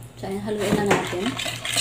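A cookies and cream ice cream mixture being stirred by hand in a bowl with no mixer, with a utensil scraping and clinking against the bowl under a continuous low hum.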